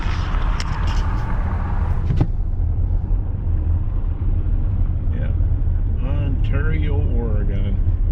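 Car driving on a winter road toward Gardiner, Montana, a steady loud interior road rumble and engine drone throughout, with faint tonal squeaks or a distant voice-like sound partway through.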